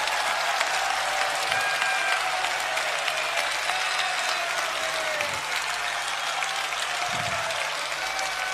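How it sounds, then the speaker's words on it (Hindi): Sustained applause from a large audience, steady dense clapping that fills the space without letup for several seconds. "यदि आप लोगों को अच्छा लग रहा है तो ताली बजाइए"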